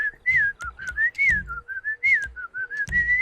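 A person whistles a wavering, melodic tune close to the microphone in short bursts and held notes, with breathy gaps and a faint background hum between phrases.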